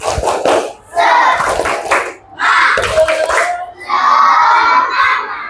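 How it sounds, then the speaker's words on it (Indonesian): A group of students in a training class claps and chants a rhythmic spirit cheer, loud bursts of clapping with shouted voices in several repeated phrases. "Ulang lagi, tepuk semangat."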